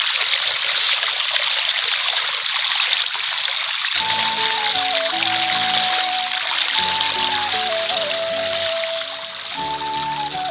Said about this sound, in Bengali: এই যে দেখুন পাইপ দিয়ে জল দিচ্ছি আমরা